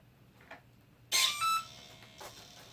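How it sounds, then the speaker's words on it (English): An E-Flite Convergence VTOL RC plane beeps while arming: a sharp, loud electronic tone burst, then a couple of softer follow-up beeps, close by in an otherwise quiet room. "It'll beep"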